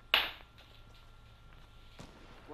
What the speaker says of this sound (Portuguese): O Akuma tá vendo, ele tá dando tiro.